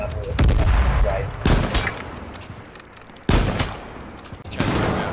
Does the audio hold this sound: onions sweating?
no